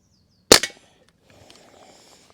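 Barra 1866 CO2 cowboy rifle, smooth bore with fixed sights, firing a pellet: a single sharp, loud pop up close, followed by a faint rattle and soft handling noise.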